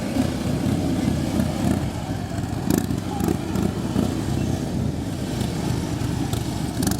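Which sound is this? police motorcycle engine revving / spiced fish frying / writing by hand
police motorcycle engine revving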